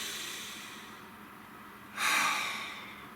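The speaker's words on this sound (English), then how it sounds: "Nice deep breath, please." A single deep breath taken in a quiet room, a short, fairly loud rush of air that rises suddenly after a stretch of near-silence and fades over about half a second.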